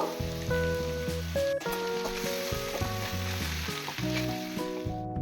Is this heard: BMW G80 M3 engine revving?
no